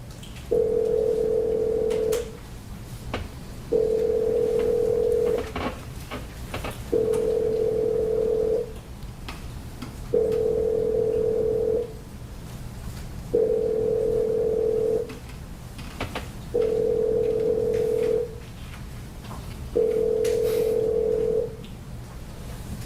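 An even repeating telephone ringback tone while a prepaid inmate call from a Hillsborough County detention facility connects, seven steady two-second rings with pauses between them, loud and clear on the line.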